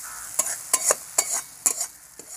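Spice paste with ground coriander being stir-fried in a pan, with several distinct scraping strokes of a spatula over a soft, steady sizzle, close and fairly loud, no talking.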